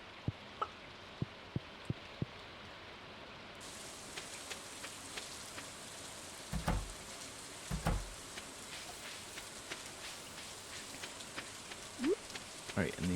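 Rain falls on a farm in Stardew Valley, a continuous close patter and hiss broken by scattered sharp clicks and taps, with a brief faint tone now and then.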